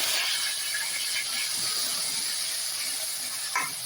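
Ground paste of five medium onions sizzles in a hot pan for a paneer gravy, giving a continuous close frying hiss with small crackles and a faint scrape near the end.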